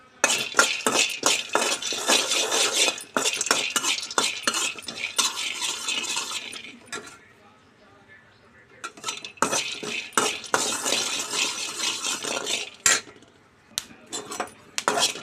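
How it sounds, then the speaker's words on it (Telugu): Half a cup of peanuts is dry-roasted over a low flame in a kadai, stirred so the nuts rattle and scrape loudly against the metal in quick bursts, with a short quiet pause partway through. "ఇదే కడాయిలో హాఫ్ కప్పు పల్లీలు వేయించుకుందాం"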